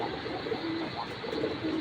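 A Giribaz pigeon coos softly in low, rolling calls against a steady background hum, faint and close with no talking.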